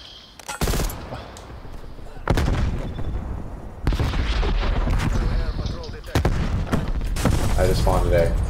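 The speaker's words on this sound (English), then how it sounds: "I shotgun this guy from 3 feet away and he gets me." Gunfire in Call of Duty: Black Ops Cold War, with several loud, sharp blasts from a shotgun at close range, separated by seconds of game noise while a player talks throughout.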